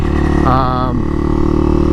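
A supermoto motorcycle with a Two Brothers exhaust pipe idles loudly and close, its steady burbling note briefly wavering, with a voice partly over it.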